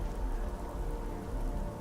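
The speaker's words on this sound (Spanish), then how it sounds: "Está lloviendo." Steady rain falling in the video game Starfield, a dense, even hiss with low rumble that holds throughout at moderate level, with no voices over it.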